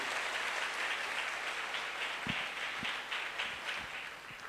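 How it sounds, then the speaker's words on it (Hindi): An audience at a speech event applauds in sustained, dense clapping that holds steady, then tapers slightly toward the end, with a few sharper individual claps standing out. "इस गॉड के लिए जोरदार तालियां होनी चाहिए"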